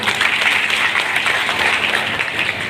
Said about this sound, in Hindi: इनके लिए एक जोरदार ताली होनी चाहिए।